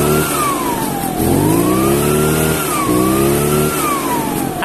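An Echo Kioritz leaf blower's small two-stroke engine revs up and down repeatedly, its pitch rising and falling in loud, steady surges close by with no talking.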